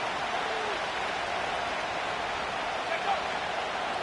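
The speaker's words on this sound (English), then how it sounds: "This crowd into it now as we get to 3rd down." Football stadium crowd at a Packers vs Jaguars game roars steadily before a third-down play, a dense, continuous wash of cheering and noise that holds at an even level throughout.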